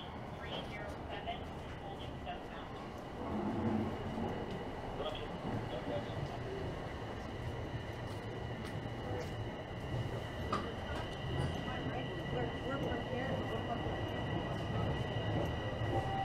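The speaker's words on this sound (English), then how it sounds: "there's another train pulling in that's going to dump a lot of people off" A Toronto Line 1 subway train rumbles steadily into Bloor-Yonge Station during a line closure, a low continuous roar with faint metallic squeals and background murmur of people talking on a crowded platform.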